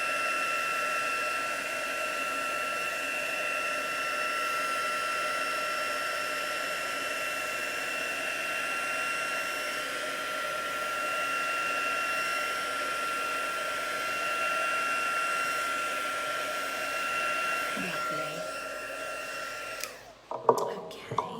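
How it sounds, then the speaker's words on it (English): A heat tool runs steadily to set stamped ink on card during a rubber-stamping session, a continuous blowing hiss with a faint whine throughout, ending in a few clicks and handling knocks. "I'm just going to heat set that as well."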